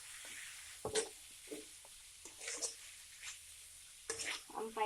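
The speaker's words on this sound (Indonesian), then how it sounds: "Terakhir sekarang bihunnya guys, masukin semuanya, aduk-aduk guys" Rice vermicelli being stirred as it fries in a pan: soft sizzling under a series of close scraping, squishing stirs, irregular and fairly quiet.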